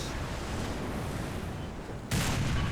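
T-44-100 tank cannon firing in War Thunder, a sudden heavy blast near the end cutting through a steady loud engine and battlefield rumble.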